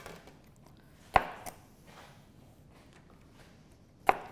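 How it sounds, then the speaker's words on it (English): A knife slices down through a green pepper on a cutting board, two sharp distinct thuds of the blade striking the board with a softer tap between, close and fairly quiet in a still room. "draw the knife right down through the pepper"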